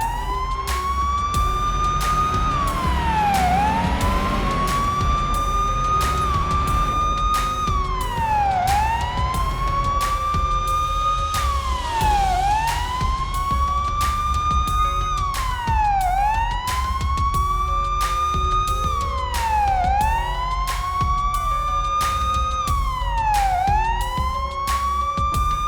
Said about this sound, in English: Lights and sirens on.